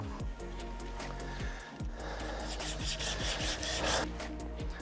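Wooden guitar neck being hand-sanded, a steady close rasping scrape in repeated back-and-forth strokes, continuous and fairly loud with no talking.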